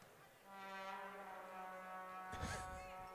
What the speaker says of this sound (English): that air horn is not allowed and that's the warning right there